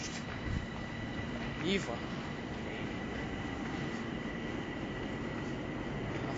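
A Bombardier train rolls through Basarab station in Bucharest as a steady, loud rumble that holds for the whole stretch, with a brief squeal partway through and people chatting nearby.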